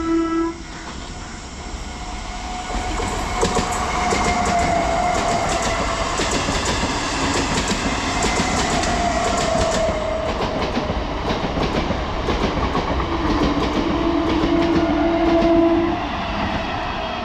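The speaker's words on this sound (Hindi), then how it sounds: "EMU ट्रेन निकल रही है।" An EMU electric multiple-unit train runs through Shambhu railway station on the main line, its steady rumble and clattering wheels sustained throughout, with horn-like tones sounding near the start and again late in the pass.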